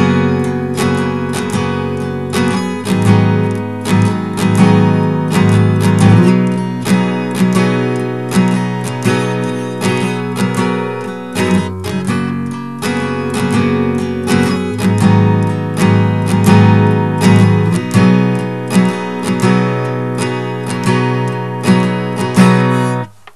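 A guitar plays the chords of a song alone in a steady, rhythmic strum that repeats for about twenty seconds and cuts off abruptly at the end.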